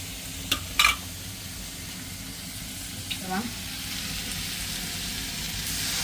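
Onions fry in oil in a pan, a soft, steady sizzle heard up close, with a few sharp clinks and scrapes of stirring early on.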